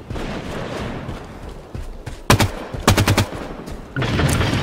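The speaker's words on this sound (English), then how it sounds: "Battle rifle." Battle rifle gunfire in the Halo 5 video game: two quick bursts of close, loud shots in a three-round rhythm over steady game ambience, with the bursts clearly spaced apart.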